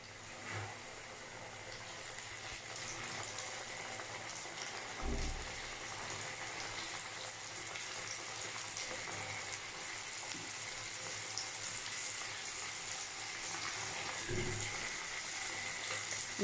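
Chicken wing pieces deep-frying in a pan of oil give a continuous, fairly quiet bubbling sizzle, with a couple of soft low bumps as pieces are moved.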